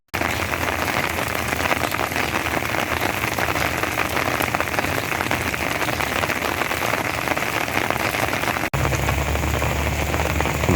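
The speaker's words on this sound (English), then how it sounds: "It still keeps raining at a very, very steady pace." Steady, heavy rain from Tropical Storm Alvin pours down in the desert, a dense continuous hiss of drops on surfaces that stays loud and even without pause.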